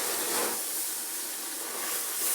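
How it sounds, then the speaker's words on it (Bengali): A cup of strained milk poured into a pan of roasted semolina, giving a steady close hiss and bubbling seethe that holds through the clip with no voices. "এবারে আমি এখানে এক কাপ দুধ দিচ্ছি"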